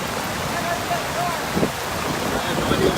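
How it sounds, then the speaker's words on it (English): Heavy rain falls steadily in Bangor as a broad, continuous wash with a faint voice murmuring beneath it and a couple of brief knocks near the end. "Looks like actually the rain is starting to pick up in intensity again."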